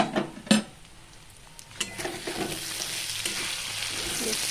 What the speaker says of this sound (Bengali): মিনিট 10 ভাজতে হবে।